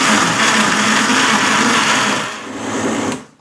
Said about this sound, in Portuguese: E agora a gente vai bater, hein, Henrique?